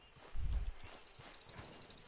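Horse hooves in Red Dead Redemption, a few soft clip-clop steps, one heavier thud near the start, faint and close with no talk.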